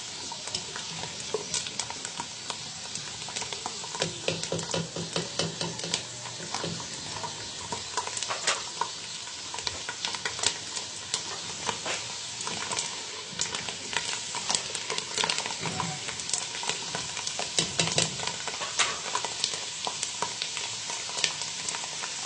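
Almonds, cashews and fennel seeds roast in a pan for sweet jaggery rice, giving a soft, steady crackle with scraping stirs that come and go throughout. The sound is fairly quiet and close, with no voices.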